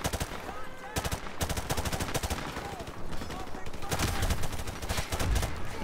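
Call of Duty 4 Modern Warfare Remastered gunfire rattles in repeated automatic bursts, some near and some farther off, with a voice speaking beneath the shooting.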